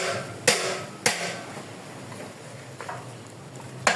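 Hammer strikes while a motorcycle is being dismantled, a few sharp metallic knocks spaced irregularly, fairly close, with quieter taps between and a low background hum.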